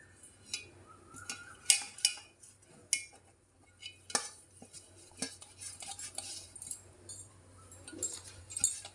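Oil is spread around a rice cooker pot for a ragi flour cake, with scattered metallic clinks and light scraping of a utensil against the pot, sparse and close.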